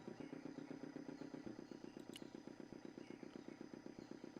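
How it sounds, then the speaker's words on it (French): A video game vehicle engine sputters and catches, settling into a fast, even mechanical chugging that pulses regularly throughout, faint and distant in the mix. "Le moteur crachouille un peu et démarre."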